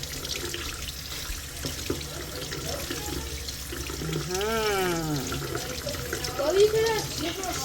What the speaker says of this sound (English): So first we're gonna wash our fruit.